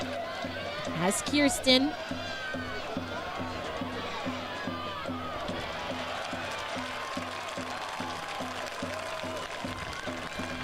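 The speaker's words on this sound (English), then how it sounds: "You can hear the frantic crowd" Stadium crowd at a women's professional soccer match between Washington Spirit and Racing Louisville, a steady roar that stays under continuous play-by-play commentary, with a brief louder swell early on.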